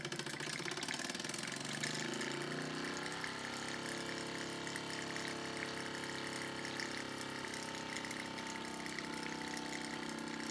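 A Mamod model steam roller engine running on alternative fuel chugs steadily, with a fast mechanical rhythm and a hissing, watery wash, close and continuous without any talking.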